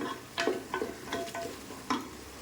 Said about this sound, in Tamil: பிரியாணி பேஸ்ட்டையும் ஊற்றி நல்லா அந்த பச்சை வாசம் போகிற வரைக்கும் வதக்கி விடுவோம்